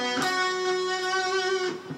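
Guitar plays a short, sustained phrase from the opening of a song, with ringing notes that are heard clearly and alone.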